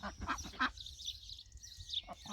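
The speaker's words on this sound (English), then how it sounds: "Broody duck is off the nest." A broody duck off her nest quacks in a quick series of loud, close calls, rough and nasal, with brief pauses between bursts.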